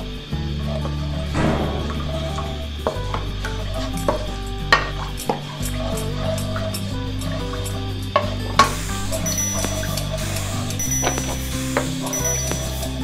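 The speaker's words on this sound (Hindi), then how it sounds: "बनास्पति घी ऐड कर रहे हैं 1 प्याली।" Vegetable ghee being added to a cooking pot for potato and onion preparation, with low frying sizzle, stirring and metal clinks of utensils against the pot, plus scattered sharp taps throughout.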